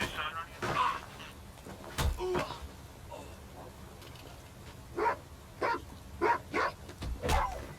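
Dog barking in the video game Watch Dogs 2: several short, sharp barks in quick bursts, mostly in the second half, heard over steady game ambience.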